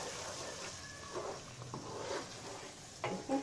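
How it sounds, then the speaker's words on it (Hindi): Masala spices frying in a pan for egg biryani, a soft steady sizzle with occasional scraping stirs of a spoon against the pan, fairly quiet and close. "मसाले अच्छे से पक रहे हैं"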